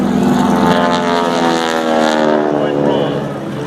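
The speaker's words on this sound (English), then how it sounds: "that 600 horsepower engine is roaring to life" A T-6 airplane's 600 horsepower engine roars loudly at an air show, a harmonic propeller drone rising and falling as it passes, with an announcer talking over it.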